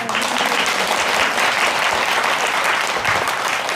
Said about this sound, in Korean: 우리 주지스님께 큰 박수 한번 주세요